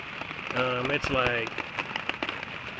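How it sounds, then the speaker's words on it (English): Heavy rain pours steadily at a backpacking campsite on a mountain trip to Chicago Basin, a dense, constant hiss close by, with someone talking over it partway through. "Well, that's raining pretty good now."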